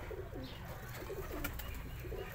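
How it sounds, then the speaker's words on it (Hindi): A pigeon coos close by in a quiet setting, repeating its soft, throaty rolling calls several times in a row, with no talking over it. "ए कबूतर जे"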